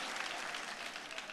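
A church congregation claps together in a short burst of applause, dense and even, heard at a distance and fairly faint.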